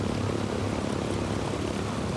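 A stolen propeller plane in the Ghost Recon Wildlands video game flies with a loud, steady engine drone and buzzing airscrew, unbroken across the brief stretch, with no voices.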